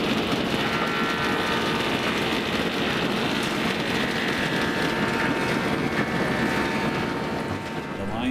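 Woodworking lathe turning in a mill whose line shaft is driven by a 15 horsepower three-phase electric motor, a continuous loud mechanical whir and rumble with a faint voice underneath.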